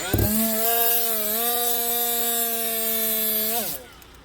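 A Milwaukee M12 right angle die grinder runs at high speed, a loud close steady whine with a strong harmonic tone that dips slightly, holds for several seconds, then winds down abruptly.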